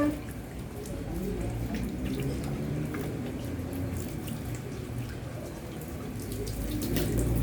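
Running water pours and splashes steadily while a baby is rinsed during bath time, a continuous close wash of liquid with a soft voice faintly beneath.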